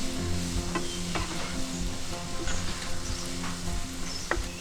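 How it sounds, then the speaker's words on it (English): Tomatoes fry with browned onions in a pan for stuffed crabs, a loud steady sizzle with repeated spoon scrapes and knocks as the mixture is stirred close by. "Then you have to add tomatoes to it and mix it well"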